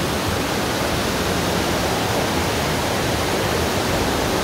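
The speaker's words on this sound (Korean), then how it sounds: "물소리가" Rushing water of Biryong waterfall in Seoraksan, a dense, steady roar that fills the whole clip, loud and close with no other sounds.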